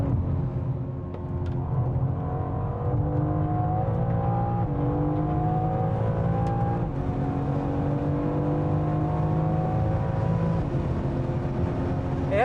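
Engine of a Bovensiepen Zagato BMW M4 heard from inside, a moderate, steady drone with repeated gear-by-gear rises in pitch as it pulls through the revs.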